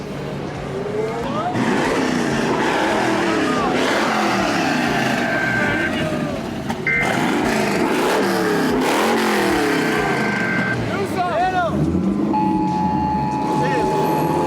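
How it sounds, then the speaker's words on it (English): Cars do burnouts and drift at a car meet turning into a street takeover: loud, continuous engine roar and revving with squealing tires, while voices shout and talk close by. "We got people doing burnouts. And he's drifting."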